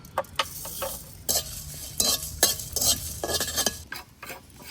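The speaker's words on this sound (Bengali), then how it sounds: "এখান থেকে জিরে আর ধনে আর শুকনো লঙ্কা একটু ভেজে নেব।" Cumin, coriander and dried chillies fry in a pan nearby, with repeated bursts of scraping and stirring over a soft sizzle. Quieter pauses fall between the strokes, and no one talks.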